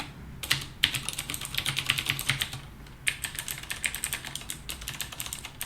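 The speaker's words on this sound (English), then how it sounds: "so the blue cherry keys, like you can see, those are the keys that are used for every other key on that keyboard." Rapid, sharp clicking keystrokes on a HyperX Alloy Elite RGB mechanical keyboard with Cherry MX Blue switches, two close bursts of steady typing separated by a brief pause, with no talking.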